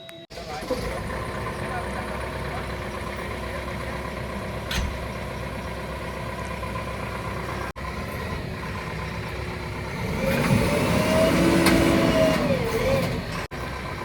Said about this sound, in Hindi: तो भाई साहब मशीन को कर दिया स्टार्ट